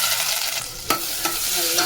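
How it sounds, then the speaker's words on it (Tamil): Spices, sliced onion and curry leaves for sambar are tempered in hot oil, giving a continuous close sizzle with a few sharp stirring scrapes. "எண்ணெய் சூடாகிடுச்சு, இதை போட்டுக்கலாம்."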